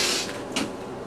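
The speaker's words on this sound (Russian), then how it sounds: "ее надо дернуть, она убирается" A hose reel in an IVECO-chassis camper retracting after a tug, a brief whirring slide with a soft mechanical rattle, close and alone.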